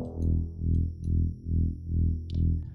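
A deep, fat dubstep bass synth patch built in Ableton Operator with eighth-note synced auto-pan and reverb pulses in a steady wobbling rhythm, loud and thick, with a few faint clicks above and no voices.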